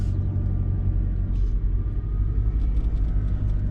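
Car driving along a road in Rapid City, South Dakota, a steady low rumble of engine and tires heard from inside the cabin, constant and fairly loud with no talking.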